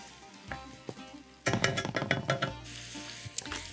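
A quinoa, rice and meat mixture sizzles in a pan while being sautéed, with a burst of scraping stirs and crackling in the middle, close and fairly quiet.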